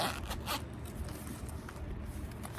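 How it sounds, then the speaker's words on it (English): Zipper on a small embossed zippered wallet, a few quick close zipping strokes, fairly quiet, with no talking. "it is the embossed little zippered wallet"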